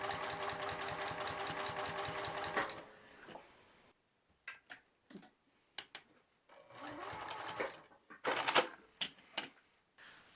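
A sewing machine stitches binding onto an Irish Chain quilt with a fast, steady, close mechanical chatter that stops after a few seconds, then gives way to scattered handling clicks, rustles and a short second burst.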